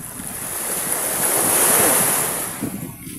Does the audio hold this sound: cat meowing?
no